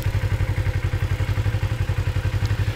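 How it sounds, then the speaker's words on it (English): Kawasaki Ninja motorcycle ridden along a gravel road near Davilla, Texas. Its engine gives a steady, rhythmic low thrum with pulsing clatter, close to the microphone, and no voices are heard. "I'm about to do a little dirt biking, or at least gravel road biking, on my little Ninja"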